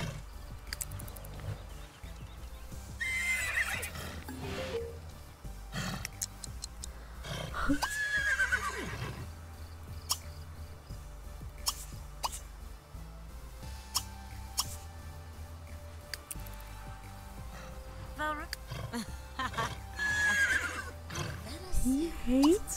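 A wild horse in The Sims 3 whinnies and neighs several times across a quiet game scene with soft ticking and clip-clop hoofbeats, the calls fairly faint and spaced apart, with a person talking at times.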